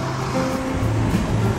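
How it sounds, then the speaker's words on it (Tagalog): Heavy rain pours down in a steady, dense roar with no breaks, loud and close, like a downpour hitting the ground and surfaces nearby. "lakas ng buhos ng ulan."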